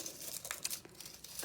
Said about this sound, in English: you would take this and you would crumple that up in the beginning.